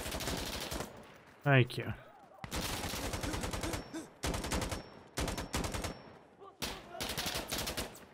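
Gunfire in the video game Insurgency: Sandstorm, repeated loud bursts of rapid automatic fire broken by short pauses, with a single brief spoken phrase among them.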